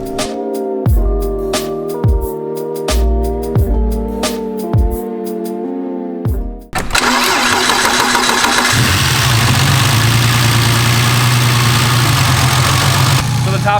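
A turbocharged BMW E36 engine cold-starts after sitting a while: several sharp cranking bursts give way to a loud, rough, high-revving roar that settles into a steady idle, with a person's voice faintly underneath.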